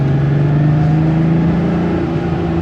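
Air-cooled 3.2-litre flat-six of a 1984 Porsche 911 Carrera droning steadily while driving, a loud, close engine note holding nearly constant pitch with a slight dip, no voices.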